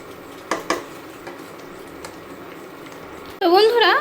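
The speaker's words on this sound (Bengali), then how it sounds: "তো এবার আমরা একটু নাড়তে থাকবো জিনিসটা" A spoon clinks and scrapes through spiced cauliflower gravy in a pan, a few soft knocks early on, then a person speaks loudly over the quiet stirring.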